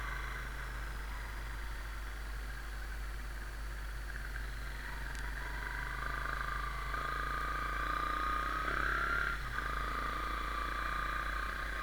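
Honda Sonic 125 motorcycle fitted with a modified carburettor, riding along a local road near home, a steady mid-pitched engine drone with a deep low hum that swells slightly louder partway through.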